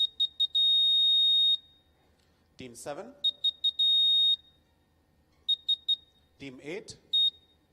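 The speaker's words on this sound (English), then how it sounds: "So the buzzers are working all right." Quiz buzzers at a junior quiz grand finale sound in sequence as short, loud electronic beeps, some in rapid triple bursts and some held longer, with a quizmaster calling out teams between them.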